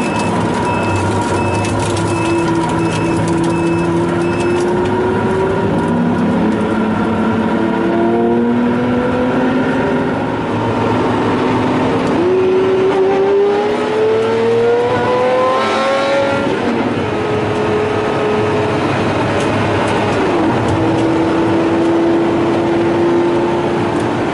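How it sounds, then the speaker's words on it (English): A Pagani Zonda 760RS supercar drives through an industrial estate, its engine note climbing through the revs, dropping at gear changes and rising again under hard acceleration, loud and close throughout. "Darren takes the racing line into the industrial estate"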